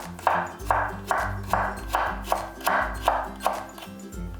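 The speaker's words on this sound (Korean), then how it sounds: "당근은 4cm 길이로 썰어 1mm 두께로 채 썰어주세요." A knife slices carrots into thin 1 mm julienne strips on a cutting board, giving a steady series of about ten crisp chopping knocks at an even rhythm, close and clear, with no talking.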